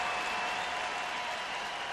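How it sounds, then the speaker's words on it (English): Crowd at a Yankees vs Astros baseball game in Houston gives steady applause as pitcher Keuchel leaves the mound, a dense, even wash of clapping that holds loud throughout without any voice on top. "So Keuchel's done, and he gets a nice hand from the crowd."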